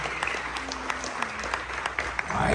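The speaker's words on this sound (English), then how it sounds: "Big round of applause for them." Guests at a quinceañera clap for the performers in a brief, moderate round of applause, scattered hand claps rising slightly toward the end.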